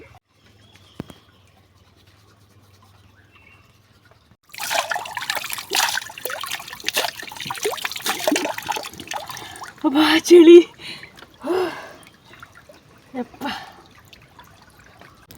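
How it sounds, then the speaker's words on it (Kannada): Water splashes and trickles in a cold early-morning stream near a house, fed by fresh water from uphill. After a quiet start it turns into a close, busy burbling, with a person speaking over it. "ನಾನು ನಮ್ಮಕ್ಕ ಇಲ್ಲಿ ಹೊಳೆ ಹತ್ರ ಬಂದಿದ್ದೀವಿ"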